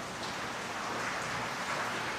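Pouring rain falls steadily at an outdoor disaster recovery site, a dense even hiss of heavy rainfall with no let-up and no voices.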